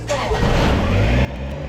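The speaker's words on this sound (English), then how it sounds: "Maybe we better take the tractor up just in case" A tractor engine starts and revs, a short, loud, rough mechanical rumble that cuts off abruptly partway through, leaving a quieter engine idle behind it.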